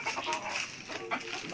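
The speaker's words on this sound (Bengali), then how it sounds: "এই মুরগিটা একলে সকল মুরগিকে মারার জন্য খেপে যায় দেখুন।" A hen on a rooftop farm clucks in short, close, repeated calls, with a busy, steady farmyard background.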